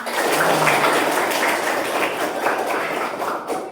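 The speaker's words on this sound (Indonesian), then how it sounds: "tepuk tangan." A burst of hand clapping from a small group, close and dense with overlapping claps, continuing steadily for several seconds and tapering slightly at the end.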